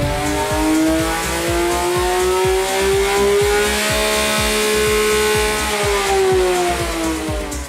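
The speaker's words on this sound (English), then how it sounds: "This engine really needs no sound engineering." A Porsche 911 GT3 of the 992 generation with its naturally aspirated engine revs hard and steadily, a loud continuous rising and falling mechanical howl with no talk over it.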